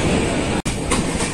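Inside a general-class carriage of the Deccan Express between Mumbai and Pune, a loud continuous rumble of wheels on rails fills the space, with a brief dropout and faint rhythmic clatter.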